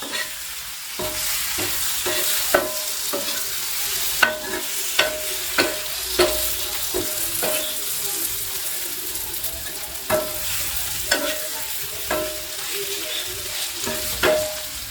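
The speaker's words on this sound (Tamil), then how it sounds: "நான் இன்னைக்கு 3 முட்டை ஆட் பண்ணியிருக்கேன். இதையே சேர்த்து நல்லா மிக்ஸ் பண்ணி விட்டுக்குவோம்." Three eggs are stirred into a sizzling pan for egg mass, a steady loud frying hiss punctuated by repeated rhythmic scrapes and clanks of the spoon against the pan.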